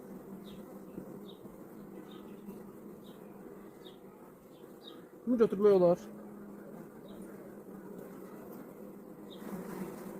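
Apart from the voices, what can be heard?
honey bees buzzing around an open hive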